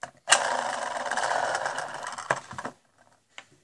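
A spin-art paint spinner whirs up suddenly, runs with a steady buzzing hum for about two seconds, then rattles and stops, with a faint click afterward.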